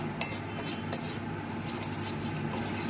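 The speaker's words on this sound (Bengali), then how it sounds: "জল না দিয়ে আগে আমি একটু কষিয়ে নিচ্ছি" Spices being dry-fried in a pan without water, with metal utensil scrapes and clinks against the pan, two sharper knocks near the start, over a steady low hiss of cooking.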